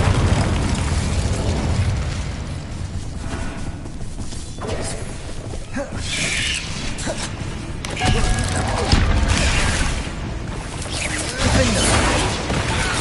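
Incendio fire spells cast in the video game Hogwarts Legacy, heard as repeated whooshing, crackling bursts of flame with booming impacts over a loud, dense game mix.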